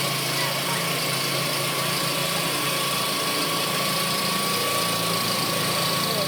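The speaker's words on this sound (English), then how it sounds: "we're cutting this off with the cutting tool there." A cutting tool slices through a rusty rear deck panel during a car body repair. A loud, continuous mechanical whine with dense grinding noise runs unbroken throughout.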